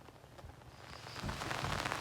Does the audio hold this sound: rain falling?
yes